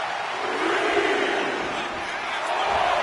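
A wrestling match crowd cheers and roars steadily throughout, a dense wall of many voices rising slightly toward the end, with no distinct talk standing out.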